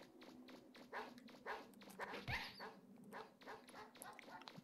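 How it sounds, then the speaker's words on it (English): Aggressive dogs in the Megaman Legends video game bark and yip in a rapid run of repeated sharp calls, fairly close and busy over a steady background hum. "This place is full of these aggressive dogs."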